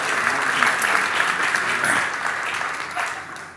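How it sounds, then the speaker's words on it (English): An audience at a magic show claps steadily as an enthusiastic volunteer walks up to the stage, a dense, fairly loud wash of applause that holds evenly and then fades slightly toward the end. "Give her a big round of applause as she makes her way up."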